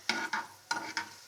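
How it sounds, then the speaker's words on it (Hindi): Chicken is stirred as it fries in a pan for pasta, giving four quick scraping, sizzling strokes close up with no voices. "अब ये थोड़ा थोड़ा फ्राई होने लग गया है।"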